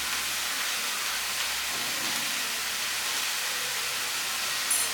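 Vegetables frying with salt, turmeric, chili powder and roasted cumin in a pan for a fish chochori, a steady close sizzling hiss running evenly throughout with no talk.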